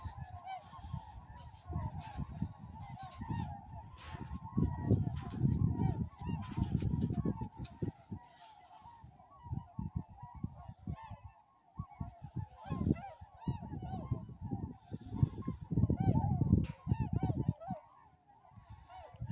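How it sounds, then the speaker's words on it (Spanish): A flock of white geese honks repeatedly nearby, overlapping calls coming in irregular bursts over rustling background noise, with some talking mixed in. "Estos gansos, no sé de qué parte del mundo viajen o emigren."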